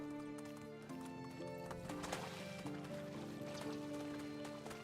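Horse galloping in the medieval game Medieval Dynasty, rhythmic hoof clip-clop at a steady pace with a brief whinny, over a continuous tonal music backdrop, fairly quiet overall.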